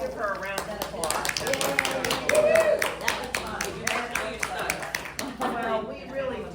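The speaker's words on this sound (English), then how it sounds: "let's give her a round of applause" Small meeting audience clapping for a speaker, scattered uneven claps mixed with overlapping chatter and voices throughout, fairly close and moderate in loudness.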